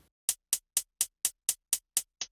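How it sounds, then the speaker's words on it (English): Crisp, bright hi-hat from a pop drum beat, struck alone nine times at an even quarter-second pulse, each hit short and sharp with silence between and the last one softer. "And this other main hi-hat."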